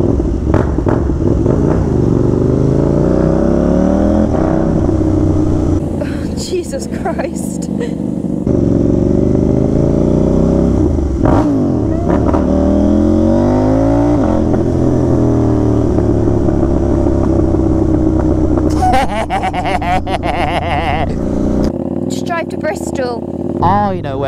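A KTM Duke 790 with an Austin Racing exhaust and quickshifter on a New Year's night ride, droning loudly throughout with rising and falling revs through gear changes, and voices talking over the engine.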